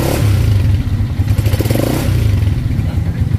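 A Honda TMX 125 Alpha motorcycle engine runs loud and close with a steady rumble, and the throttle is blipped in uneven pulses over the idle.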